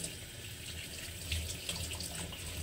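Tap water runs steadily into a sink as tomatoes are washed under it. The soft, even splashing hiss is quiet and close, with faint irregular bumps and no speech.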